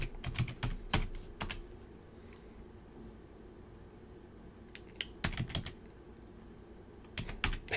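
Quiet computer keyboard typing of a password, short bursts of soft clicking keystrokes separated by pauses.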